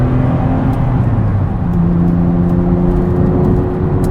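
A high-mileage Porsche 996 is heard from inside while being driven, its engine a loud, steady drone with a sustained whirring tone and road rumble, holding an even note throughout with no voices.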